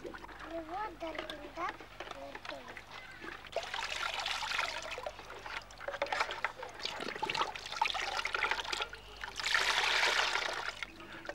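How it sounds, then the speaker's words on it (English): Children in a classroom pour water from a bucket with cups through a soap dish, giving soft trickling and splashing that comes and goes beneath a voice speaking throughout, fairly quiet. "They learn that water comes through a soap dish."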